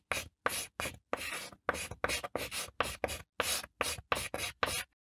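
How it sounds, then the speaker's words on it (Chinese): Chalk scratching across a blackboard in a quick run of about fourteen short, sharp strokes, each a separate dry rasp with brief gaps between, close and clear with nothing else underneath. "我们先添加一个粉笔写字的音效啊"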